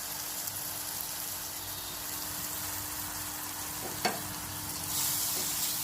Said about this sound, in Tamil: தக்காளி ஆட் பண்ண உடனே நல்லா வந்து வதக்கி கொடுங்க